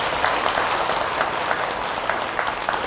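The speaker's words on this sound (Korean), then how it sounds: "스님한테 박수 한번 보내주세요" An audience at a special dharma service at Baegyangsa temple in Ulsan claps steadily for a monk, a dense, even patter of many hands heard alone for the whole stretch.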